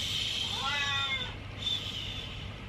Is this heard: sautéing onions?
no